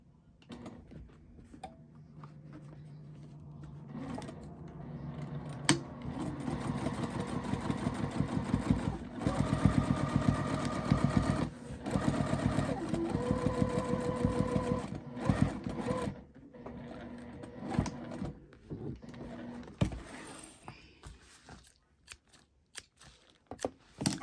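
A sewing machine runs steadily as it stitches down the seam of a patchwork tote bag, its motor whirring in a continuous mechanical rhythm with brief pauses and clicks at the start and end.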